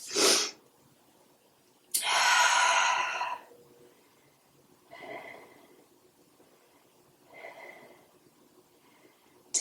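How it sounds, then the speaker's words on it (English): A woman breathes heavily after a perimenopause workout exercise, with a sharp opening exhale, a long forceful sigh, then softer breaths at spaced intervals, close and alone in a quiet room. "I'm catching my breath."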